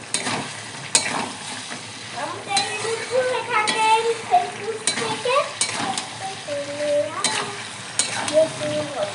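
Chicken scraps frying in oil with Malabar spinach stems sizzle under repeated spatula scrapes and clinks against the pot, a close, busy rhythm of stirring with someone talking over it.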